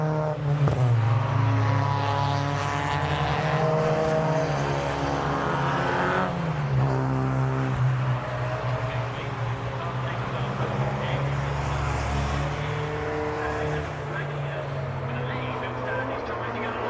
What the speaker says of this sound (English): Phil Standish in second as the cars come storming through